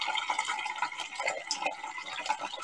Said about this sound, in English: Fill that up with reverse osmosis water.